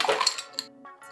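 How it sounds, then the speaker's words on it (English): Ice cubes tumble into a glass while a Long Island Iced Tea is built, a quick burst of clinks and rattles settling into a few scattered taps within about a second, close and clear with no talking. "Fill your glass with ice."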